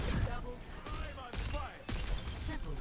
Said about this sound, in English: you have a 3-round burst gun, you have grenades